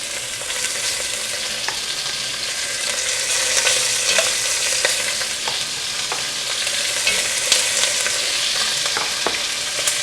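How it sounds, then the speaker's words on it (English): Beef pieces sear in hot oil in a pan for beef bourguignon, giving a loud, steady, close-up sizzle that runs unbroken throughout, with a few faint scrapes of stirring. "Time for some searing."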